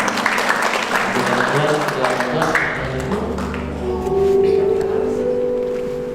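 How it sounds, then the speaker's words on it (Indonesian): A wedding congregation at a Batak church blessing applauds, a broad wash of clapping over sustained organ or keyboard tones, with a voice speaking over it. "Boleh kita berikan kemuliaan buat Tuhan dengan tepuk tangan."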